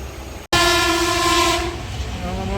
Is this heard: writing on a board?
no